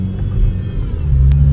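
Car traffic rumbles past on a road, a steady low drone from nearby vehicles with a brief hiss partway through and no talking.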